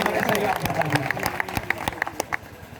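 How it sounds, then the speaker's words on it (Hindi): Audience applause, a burst of scattered hand claps that thins to a few sharp separate claps, mixed with crowd noise and voices. "जोरदार तालियां हो जाए"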